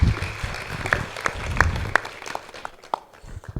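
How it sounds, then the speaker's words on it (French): A youth leadership forum audience applauds, with a dense patter of clapping under a few faint voices that thins out toward the end. "On l'applaudit très fort."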